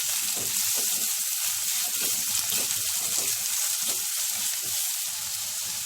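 Garlic and a large onion sizzle and fry steadily in a pan, with repeated scraping stirs cutting through the continuous hiss at close range; no talking.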